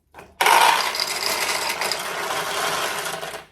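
Steel balls run through a restored 1973 Nishijin Model B vintage pachinko machine, a loud continuous metallic rattling and clattering cascade along the feed tracks that starts abruptly and holds steady for about three seconds before stopping.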